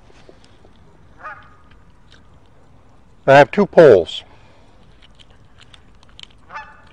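Geese and ducks at a park pond in Cary, North Carolina, with a loud burst of honking in the middle, briefly repeated, and a few fainter calls around it. Someone speaks briefly during the clip.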